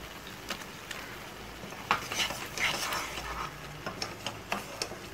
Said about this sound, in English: I'll stir it for around 1 to 2 minutes until it get cooked.